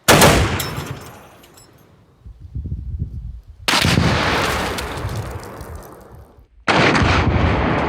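A combat weapon module fires three loud bursts of heavy automatic gunfire, each a sharp crack followed by a long rumbling echo that fades out between bursts.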